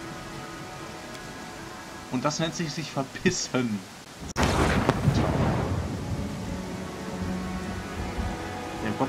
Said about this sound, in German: das nennt sich Regen